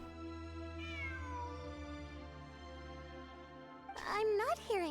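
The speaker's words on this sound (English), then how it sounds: "I'm not hearing things. It really is a cat." A cat meows twice inside the Genshin Impact video game, a single drawn-out mew early on and then a louder, rising pair of meows near the end, heard over steady background game music.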